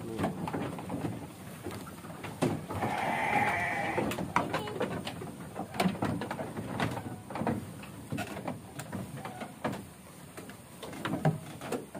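Goats bleat repeatedly in a rural village pen, several short wavering calls scattered across the stretch at close range, with some clattering and shuffling around them and no talking.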